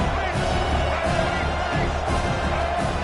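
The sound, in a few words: home crowd cheering in a football video game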